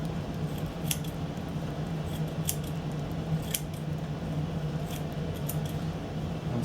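Sharp scissors cut triangles from a roll of material, giving crisp, close snips at irregular intervals of roughly a second over a low steady background hum, with no talking.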